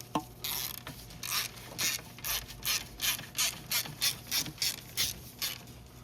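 Hand ratchet clicking in steady bursts while running starter bolts in on a 2014-2021 GMC Sierra 1500 5.3L, about ten close, crisp rhythmic strokes with no talk.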